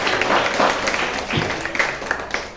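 Audience applause at a vocational school event, a loose patter of clapping from a crowd that rises and thins over a couple of seconds, with murmured voices underneath.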